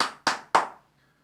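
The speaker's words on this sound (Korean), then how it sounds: "아주 좋은 말에서 박수" Three quick separate hand claps, sharp and close, each trailing off briefly, followed by near silence.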